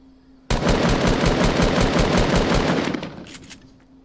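Sustained rapid automatic gunfire from another player in a video game rattles loud and steady for about two and a half seconds, then tapers into a few trailing shots.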